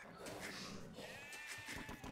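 Several sheep bleat in quick succession in the video game Age of Empires, over a steady background hum, the calls wavering and overlapping, fairly close.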